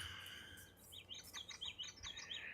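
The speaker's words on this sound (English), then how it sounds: "I hear a bird." On a rainy day near a barn in Georgia, a small bird chirps in a quick series of high, warbling notes, fairly faint and distant, over a low background hum.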